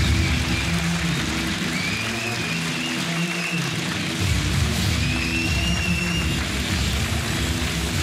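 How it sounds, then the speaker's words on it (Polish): Applause and cheering from a hall audience greeting comedian Tomek Machnicki on stage, a steady wash of clapping under loud droning music and crowd noise. "Dajcie wielkie brawa, Tomek Magnicki!"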